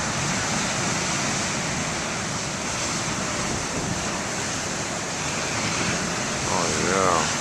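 Big ocean waves surge and break continuously at BeaverTail Lighthouse, a loud, steady roar of surf with wind buffeting the microphone throughout and no talk over it.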